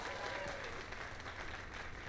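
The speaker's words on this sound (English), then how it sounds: "Let us give a round of applause for young Fulvio" Crowd applause in the Dragon's Dogma 2 video game, a steady wash of clapping that holds at an even level throughout without pause.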